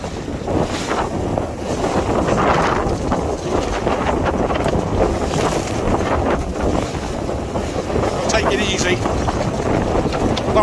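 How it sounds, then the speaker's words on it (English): Strong, gusting wind roars across the microphone without pause at sea off Rame Head, with water and a boat's movement underneath and a faint voice in the mix. "it's quite windy"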